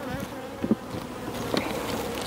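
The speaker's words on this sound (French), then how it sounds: "on tape sur le rebord de ruche" Bees buzz steadily around an open beehive during a honey harvest while a couple of light taps land on the hive rim, the droning hum continuous and close under faint knocks.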